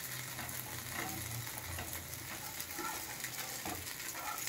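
Cashews frying in oil in a pan while rava dosa is made, a faint, steady sizzle with soft stirring scrapes throughout.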